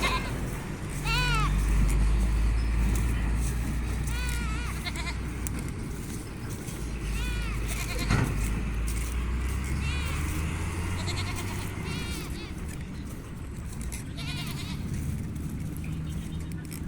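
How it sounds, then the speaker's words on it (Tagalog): Goats bleat repeatedly on a farm, several calls at moderate distance over a steady low rumble, with a voice speaking briefly. "Mga kambing."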